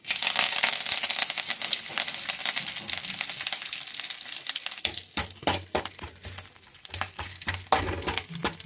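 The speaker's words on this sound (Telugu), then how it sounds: "పోపు పెడుతున్నారు." Tempering spices sizzle and crackle in hot oil for a tomato and dry chilli pachadi, a loud steady fry at first, then sharper intermittent pops and stirring clinks as it settles.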